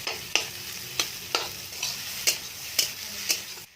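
Ground spices and ginger fry in a pan with a soft steady sizzle, while a spoon stirs and scrapes against the pan in regular strokes roughly every half second.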